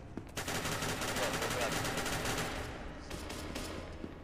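Rapid automatic gunfire in the SCP video game, a fast regular burst of shots that runs for about two and a half seconds, followed by a few scattered shots and a quieter tail.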